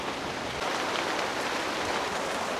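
Steady rain falls during the monsoon season, a continuous even hiss of drops on surfaces with no pauses, fairly loud and close throughout.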